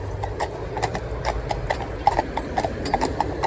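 Friesian mares walking on a hard surface, their hooves clip-clopping in a steady, fairly close rhythm of sharp knocks, with the gait briefly growing busier as the footfalls overlap.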